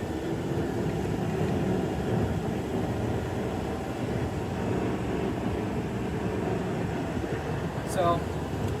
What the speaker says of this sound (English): So we're going to go onto the freeway. I'll give you a good little acceleration run.